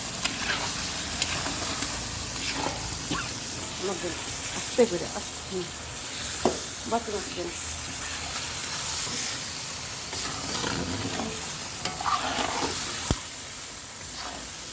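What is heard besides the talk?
fish being sautéed with turmeric, chili and coriander spices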